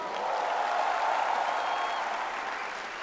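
A comedy club audience breaks into loud, dense applause, a steady wash of many hands clapping together that swells and then eases slightly toward the end.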